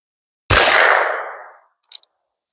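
A single loud, close AR-15 rifle shot in a rare caliber rings out and decays over about a second, followed by a few faint metallic clinks.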